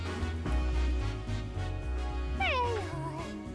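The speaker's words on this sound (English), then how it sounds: "I want to talk to the pretty cat." A cat Pokemon meows in the Detective Pikachu Returns video game, a short rising and falling call over steady background music, with no talking.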